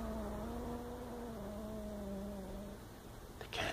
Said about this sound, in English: The cat growls.